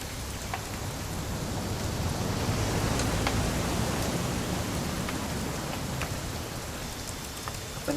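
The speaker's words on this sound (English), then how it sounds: "rain the whole weekend, isn't it?" Steady rain pours down in the video game What Remains of Edith Finch, a dense, even hiss of drops pattering on surfaces throughout, with occasional brighter splashes standing out above the constant wash.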